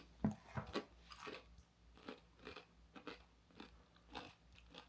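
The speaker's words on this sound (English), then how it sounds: "They're like nice and crunchy is what I like about them." Thick, crispy spicy tortilla chips with cheese dip are bitten and chewed close up, a run of sharp crunches early on giving way to softer, steady chewing bursts, with no talking.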